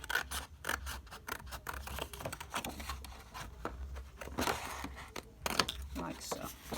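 Scissors cut off scored halves of craft card, giving a quick run of close, crisp snipping strokes with a steady rhythm while a voice speaks over the cutting.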